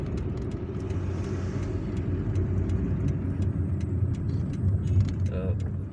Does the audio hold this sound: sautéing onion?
no